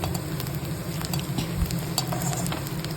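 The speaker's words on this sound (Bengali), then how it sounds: "এখন আমি এর মধ্যে পেঁয়াজ কুচি, রসুন কুচি, আদা কুচি আর কাঁচা লঙ্কা কুচি দিয়ে এটাকে আমি একটুখানি ভেজে নেব" Chopped onion, garlic, ginger and green chilli sizzle and crackle steadily in hot oil, with occasional stirring scrapes and clinks against the pan throughout.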